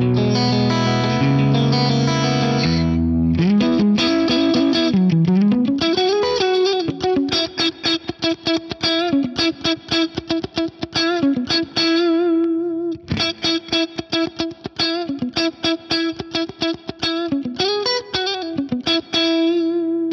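Electric guitar played through an MXR Dynacomp-style compressor pedal, opening with strummed chords and then settling into a run of quick, evenly squeezed single notes and riffs with long, even sustain, loud and continuous with no talking.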